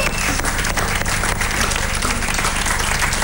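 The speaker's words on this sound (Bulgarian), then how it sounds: "Аплодисменти за Мария" A live audience breaks into steady applause, a dense, loud wash of clapping that runs throughout without a break.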